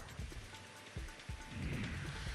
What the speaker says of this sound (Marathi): नाशिकच्या शिरवाडी, वणी परिसरांमध्ये जोरदार वादळी वाऱ्यासह पावसानं हजेरी लावली.